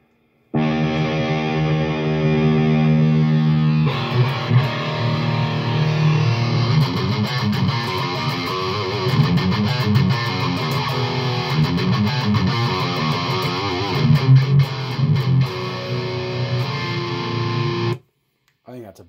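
A heavily distorted electric guitar through a Blackstar Silverline head plays a chugging rhythm, loud and close, with sustained gritty chords that cut off abruptly at the end.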